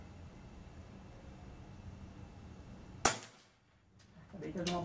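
An Air Venturi Avenger air rifle fires a single Leviathan 5.5 mm pellet: one sharp, close crack that cuts through a low steady background hum and then dies away.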